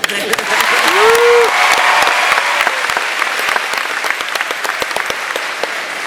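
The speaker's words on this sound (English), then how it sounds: "I think we owe them a huge round of applause" Audience applause for teachers at a 2011 NPHS high school graduation, a loud, dense crowd of clapping that carries on throughout and slowly thins toward the end, with a brief vocal whoop near the start.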